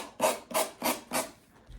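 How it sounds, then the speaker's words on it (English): Four even rasping strokes of a sanding brush scraping across a napkin-decorated craft surface, close and steady in rhythm, then quiet. "I'm going to take my little sanding brush, and I'm just going to go all along"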